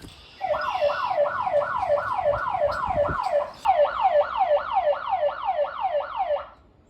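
A loud DSC NEO home alarm siren wails in fast, repeating rising sweeps, briefly breaking off midway before resuming and then stopping.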